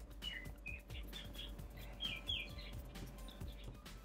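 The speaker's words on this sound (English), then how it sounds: "Do you guys hear the birds outside of my window here?" Several small birds chirp in short, high bright calls from outside a window near a neighbor's rooftop, scattered across the moment over a low steady background hum.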